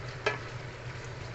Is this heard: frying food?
yes